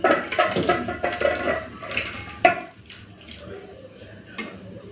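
Prawn and vegetable curry poured from a pot, a wet splashing pour with a few clinks of metal utensils, fading into quieter drips over the last couple of seconds.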